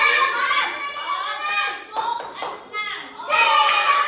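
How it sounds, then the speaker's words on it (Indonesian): A group of schoolchildren in an Indonesian classroom claps in rhythmic patterns while chanting together, bright and close, with brief pauses between bursts. "boleh mau tepuk dulu tepuk enam"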